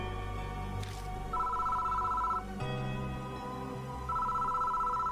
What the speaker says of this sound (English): The phone suddenly starts ringing.